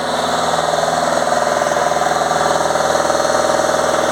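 A Fiat Ducato van engine held at high RPM during a diesel particulate filter clean for soot build-up runs with a steady, even, droning hum and no change in pitch.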